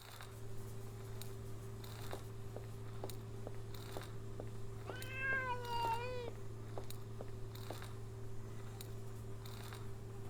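A cat meows once in the Memoranda video game, a wavering, drawn-out cry rising and falling over a steady low electronic hum, with faint ticking clicks scattered throughout.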